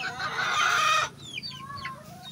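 Backyard chickens squawk and cluck in a loud, dense burst lasting about a second, then scattered softer clucks and chirpy calls continue close by.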